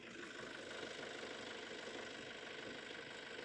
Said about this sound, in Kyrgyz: Мына мотордун үнүн угуңуздарчы